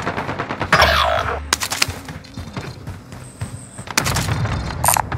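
Assault rifle fire in Call of Duty: Modern Warfare, with loud rapid bursts and sharp single shots alongside heavy booms and a busy battlefield mix, close and dense throughout.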